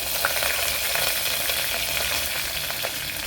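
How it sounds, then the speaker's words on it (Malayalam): Mustard seeds frying in a tablespoon of coconut oil for a savala aviyal curry, a dense, loud, steady crackling sizzle with faint popping throughout, close and without talk. "ഒരു ടേബിൾ സ്പൂൺ വെളിച്ചെണ്ണ ഒഴിച്ചു കൊടുത്തിട്ടുണ്ട്. അതിലേക്ക് കുറച്ച് കടുക് ചേർത്ത് കൊടുത്തിട്ടുണ്ട്."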